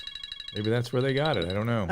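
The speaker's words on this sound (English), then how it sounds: "Oh, sorry, that was my phone." A phone ringtone chirps in short repeated electronic pulses, fairly faint, first alone and then continuing beneath someone talking.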